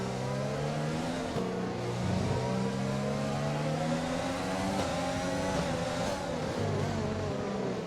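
A race car engine in an online racing game league event at the Russian Grand Prix revs high and continuously, its pitch climbing and dipping as it accelerates, heard alone without talk.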